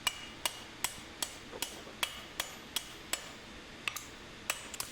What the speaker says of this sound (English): I'm going to drive that nub right down, and then drive it into the handle so it's secure.